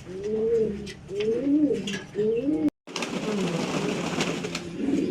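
Pigeons at a pigeon farm coo close by in repeated rhythmic rolling phrases, with more cooing continuing under a noisier background after a brief break.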